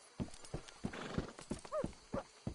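Video game horse hooves in Red Dead Redemption 2 clip-clop in a steady trot, with a short whinny rising near the end; close and fairly loud, no talking.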